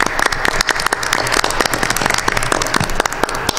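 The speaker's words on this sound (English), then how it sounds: "I just want to applaud him again" Audience applause at a high school event, dense crackling claps filling the room loudly and steadily throughout.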